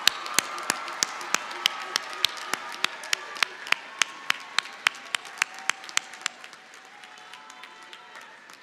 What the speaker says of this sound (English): give a round of applause to your family